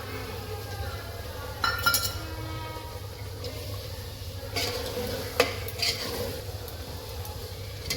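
Green garlic tipped into a pan of cooking vegetables, then stirred with a few clinks of the utensil against the pan over a low, steady sizzle.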